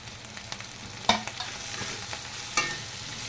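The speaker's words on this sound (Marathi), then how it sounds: "छान पटापट आपल्याला फ्राय करून घ्यायचं आहे" Mixed vegetables (capsicum, carrot, cabbage and tomato) stir-frying in a pan for street-style veg noodles, a soft continuous sizzle with scattered clinks and taps of a utensil against the pan, close and without talk.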